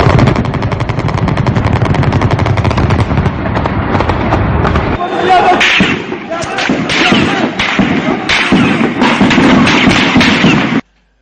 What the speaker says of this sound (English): they were met with sporadic gunfire